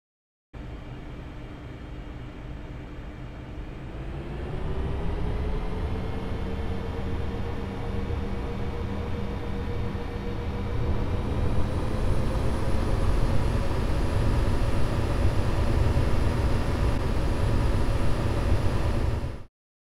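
Airbus A320 jet engines spool up to takeoff thrust, a steady broadband roar with a tone that rises and settles around five seconds in, then holds loud and continuous with no voices.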